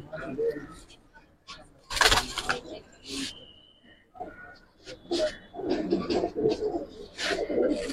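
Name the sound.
Giribaz pigeons cooing in a loft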